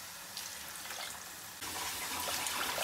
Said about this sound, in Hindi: अब इसमें हम डालेंगे पानी, जितने हमारे चावल हैं उतना पानी डालेंगे, हम चार गिलास पानी डालेंगे।